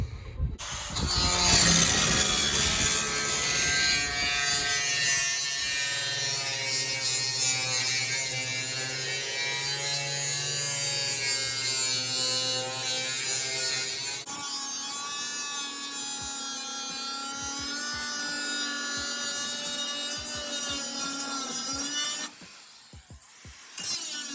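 A power tool whines loudly and steadily while cutting a hole for a fuel line in a fuel cell on a Ram truck. Its pitch shifts partway through before it winds down near the end.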